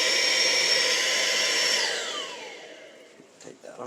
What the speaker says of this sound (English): Got the blower on